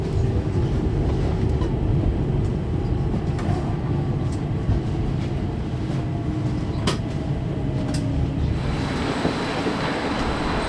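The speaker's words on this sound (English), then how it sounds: "the train crosses over Vienna's Danube Canal on a short single-track section, before joining a railway line called the Donau-Uferbahn" A Vienna S-Bahn S45 train runs on rails across a single-track bridge over the Danube Canal, a steady heavy rumble and rolling roar throughout, with brief clicks of wheels over rail joints and faint squeal near the end.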